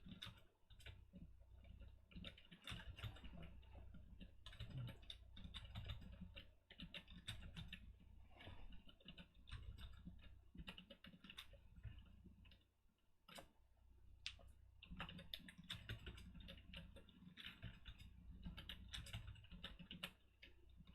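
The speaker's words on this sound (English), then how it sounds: "I'm just gonna finish typing these in" Rapid, continuous clicking of keys being typed on a computer keyboard, faint and close, with steady irregular taps and no talking.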